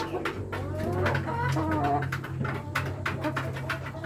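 Rhode Island rooster and hens on a farm give short, repeated throaty calls and clucks close by, with a low hum underneath.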